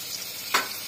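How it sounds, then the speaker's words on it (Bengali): Chopped onions with garam masala and chilies fry in a pan for a beef curry, a steady close hiss broken by one brief louder crackle of stirring. "গরম মশলা পেঁয়াজ সব আমি একসাথে দিয়ে দিলাম। পেঁয়াজটা ভালো করে একটু ভাজে নেবেন।"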